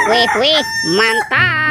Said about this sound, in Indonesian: kalau yang ini ada ayam berkokok